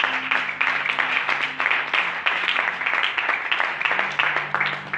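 A church congregation applauds the Lord with dense, rhythmic clapping that keeps going for the whole stretch, while a sustained musical tone sounds underneath.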